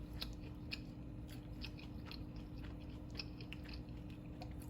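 Close, wet chewing and crunching of a flaky croissant egg boat with tomato, with repeated soft bites and mouth sounds over a steady low background hum.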